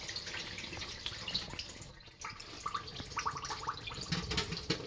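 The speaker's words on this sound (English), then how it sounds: "now you pour the water out" Rinse water being poured out of a pot of washed rice, a steady trickling and splashing stream with brief drips and gurgles, close and fairly quiet, with no talking.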